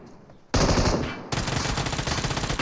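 Automatic gunfire in PUBG Mobile rips out in two loud, sustained bursts close by, with rapid, tightly packed shots and no talk over it.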